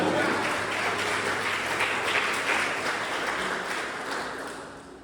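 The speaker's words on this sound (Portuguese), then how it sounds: "já vai dando uma salva de palmas ao Senhor aí" Church congregation applauding during a sermon, a dense, continuous roar of clapping from a large crowd that gradually fades over several seconds.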